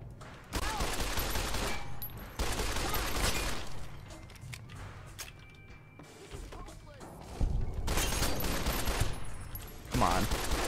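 Bursts of rapid gunfire from the Fallout New Vegas video game come in several loud clusters with brief lulls between them, and someone talks over parts of the shooting.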